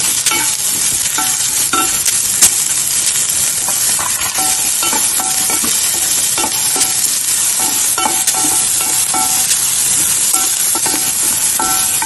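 Curry leaves and sliced onion fry in a pan of hot oil for a South Indian morning dish, giving a loud, steady sizzle with scattered stirring clicks and scrapes throughout.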